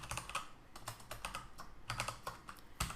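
Fast typing on a computer keyboard, a steady patter of close, crisp key clicks with short pauses between bursts, no voices.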